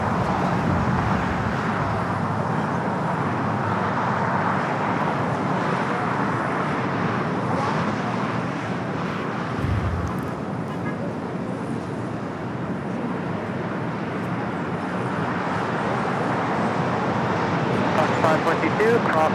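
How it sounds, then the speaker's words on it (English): An airliner bound for Haneda roars down runway 25 right at LAX on its takeoff run, a steady broad engine rush heard from a distance. The roar swells slightly toward the end. "Got the flight to Haneda now rolling down at 25 at right."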